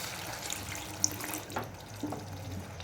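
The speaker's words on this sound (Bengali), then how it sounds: "এর মধ্যে আমি দিয়ে দিচ্ছি আরও একটু অল্প জল" Water from a tap or jug pours faintly into a pan of egg curry masala in a home kitchen, a soft running trickle with a few small clinks and drips, fairly quiet throughout.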